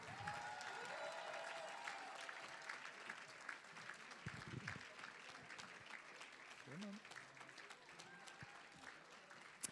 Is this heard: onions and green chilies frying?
no